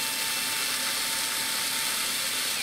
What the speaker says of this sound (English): We'll drill this one,